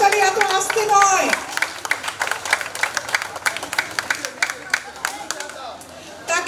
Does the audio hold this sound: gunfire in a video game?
no